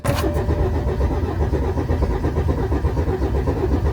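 A BMW X1 being started after its battery was reconnected, with the engine cranking and then running as a loud, steady, close mid-pitched rumble that continues throughout.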